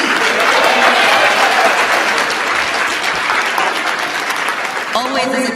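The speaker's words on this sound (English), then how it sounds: "please, a round of applause for our brilliant MC" A large audience at a health insurance conversation event breaks into loud, sustained applause for the MC, a thick wall of clapping that fades slightly toward the end, where a voice begins to come through.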